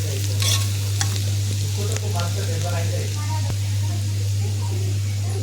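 Shredded cabbage frying in oil in a pan, stirred now and then to keep it from sticking, a steady sizzle under a low constant hum with spatula scrapes and clinks.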